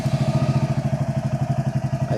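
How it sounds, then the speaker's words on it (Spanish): A Royal Enfield Hunter 350 with clip-on handlebars, freshly serviced at 20,000 km, idles steadily up close, its single-cylinder exhaust thumping in an even, rapid rhythm with no voices over it. "vamos a encender la Huntercita si calienta un poquitín"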